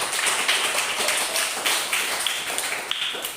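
A dense patter of applause in a primary school religion classroom, continuous and fairly loud, with overlapping claps from many small hands lasting a few seconds.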